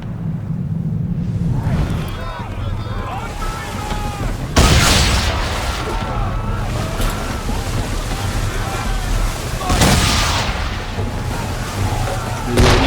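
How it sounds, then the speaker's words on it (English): Deep booming blasts of ship-mounted swivel guns firing during a naval battle in Assassin's Creed 3, two heavy reports over rolling waves, wind and creaking hull, with voices shouting in between. "Use the swivels on him, Captain!"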